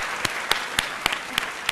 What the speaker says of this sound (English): just ask for a round of applause for Zeba's mum